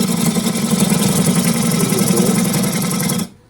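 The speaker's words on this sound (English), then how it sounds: "You can take this as a scraping cut, take little rough areas and smooth them out" A woodturning lathe hums with a steady mechanical drone while a gouge makes a scraping cut on a wooden bowl. The sound is loud and close, then stops abruptly near the end.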